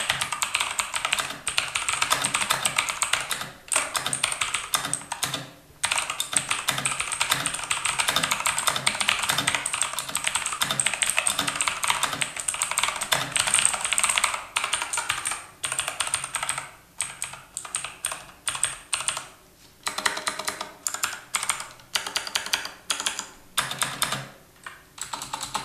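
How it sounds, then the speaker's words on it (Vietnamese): Fast, continuous typing on a QPAD MK30 mechanical keyboard with blue switches, sharp loud clicky keystrokes close up, with a few short pauses between bursts. "em này sử dụng Blue Switch và tiếng gõ của nó nghe rất là đanh và nghe to lắm"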